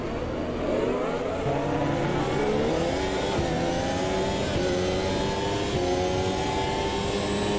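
Race cars in the Automobilista 2 racing game surge forward at the start, engines revving hard and climbing through the gears in one loud, continuous, layered roar with no talking.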